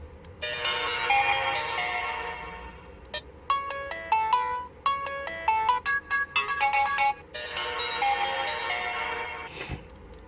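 A Sony Xperia Z3 phone plays its notification ringtone, a bright electronic melody of rapid tonal notes and chime-like runs, fairly loud and close, continuing for several seconds with no talking.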